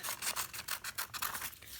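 Scissors snip rhythmically through paper, cutting out a leaf shape for a simple kids' craft flower, a quick series of about eight close, crisp cuts with no talk.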